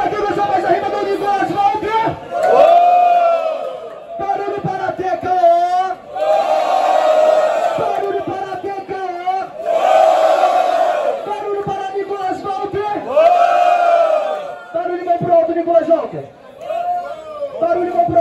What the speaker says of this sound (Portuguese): Barulho para quem gosta mais da rima do universo, vamos ver?